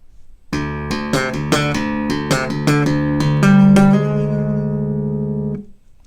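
A bass guitar plays a quick, punchy slap riff of plucked and popped notes, ending on a held low note that fades out.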